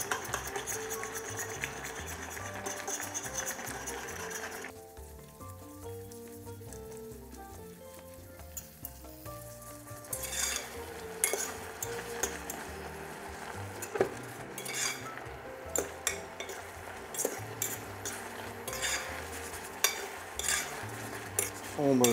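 Bolognese sauce simmers and reduces in a pot while being stirred, a close, steady sizzle and bubbling broken by repeated clinks and scrapes of a utensil against the metal pot, with no voices.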